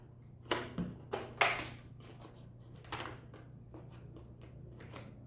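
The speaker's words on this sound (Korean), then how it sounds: "여기에 가위집을 한번 넣을게요." Scissors snip into a round plate being prepared for a craft activity for elderly people, giving a few quick, crisp cuts close by, followed by fainter handling sounds and a steady low hum underneath.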